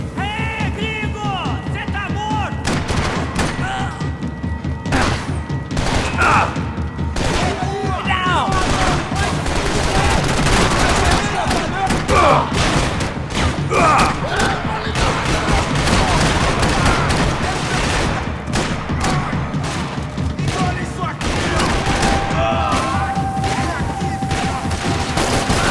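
Dense, relentless gunfire in the video game Max Payne 3, with rapid bursts and overlapping shots mixed with booms and shouting, loud and continuous throughout.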